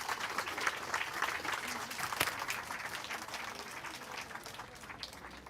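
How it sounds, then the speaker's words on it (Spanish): Steady applause from an audience at a book presentation at the Autlán Book Fair, many hands clapping together at an even level, slowly easing off toward the end. "¿Le dan un aplauso a esos maestros que los marcaron en su vida?"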